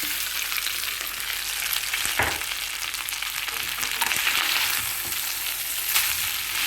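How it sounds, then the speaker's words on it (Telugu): Cooked rice being stirred into a fried sambar-powder spice mix in a pan, bright steady frying hiss with occasional spatula scrapes and clacks, no one speaking. "ఇప్పుడు ఇందులో రైస్ కలిపేద్దాం"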